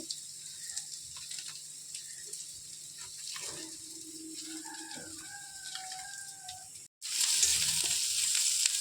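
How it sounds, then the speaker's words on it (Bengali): Onions frying in a pan give a soft, low sizzle, with a rooster crowing faintly in the distance, then after a brief cut the sizzling jumps to a loud, steady hiss. "পেঁয়াজগুলো এখন সব ভাজা ভাজা হয়ে গেছে"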